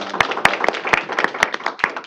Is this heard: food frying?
no